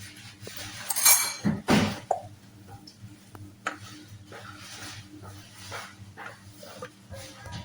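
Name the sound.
mixing pandesal dough in a bowl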